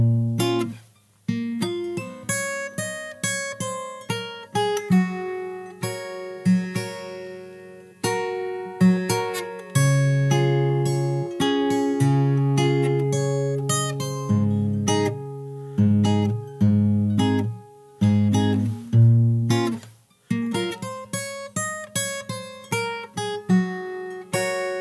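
Fingerstyle acoustic guitar plays the first verse of a song, plucked bass notes under melody with a steady pulse and short pauses, close and clear with no talking.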